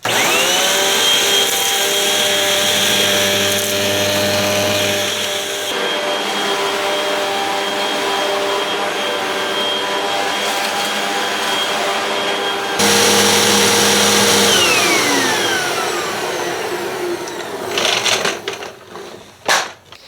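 An upright vacuum cleaner sucking up sawdust from a shop floor, a loud steady motor whine running throughout, shifting in pitch as it moves, then cutting off with rattling at the end.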